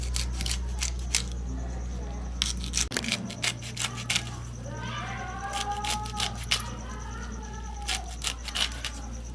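Bottle gourd leaves being cut for a vegetable dish, giving a run of crisp snipping clicks over a steady low hum, with a voice briefly heard partway through.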